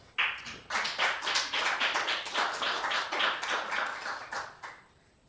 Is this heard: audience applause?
yes